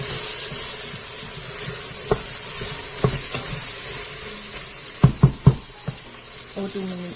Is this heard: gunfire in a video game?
no